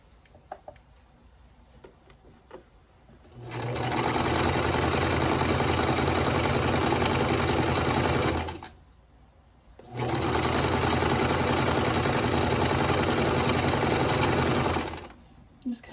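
A sewing machine stitches quilt pieces for a calico bird quilt in two steady runs of several seconds each, with a short pause between them and light handling noises around them.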